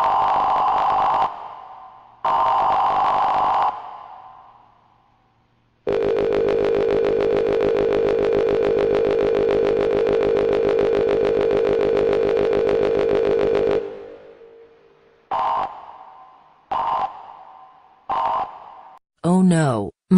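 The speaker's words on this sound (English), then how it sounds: "What is up with the EAS tone?" The Emergency Alert System warning tone from EAS.exe plays loud: two short buzzy bursts, then a long steady tone lasting several seconds, followed by a string of brief beeps and a short warbling sweep.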